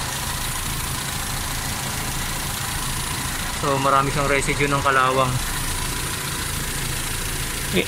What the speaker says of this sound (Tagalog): Right now nasa averaging at 800 RPM, 800 to 820 RPM ang aking makina